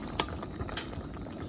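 Mushroom curry bubbling in a pot, a steady close boil with small popping bursts and one sharper splash near the start, no voices.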